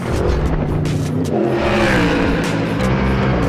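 A Ford Mustang GT race car for the GT World Challenge revs loudly and continuously close by, its engine note rising and falling over a steady roar with no talk.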